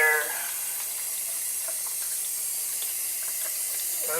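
Dishwasher drain pump pushing water out through a spliced hose, a steady rushing, splashing wash of water that holds evenly and close throughout with no talk.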